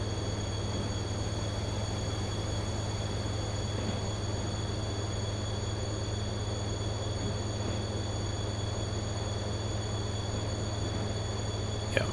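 A train rolls along a railway main line in the Transport Fever 2 game, a steady faint rumble with a constant hum and high whine and no voices.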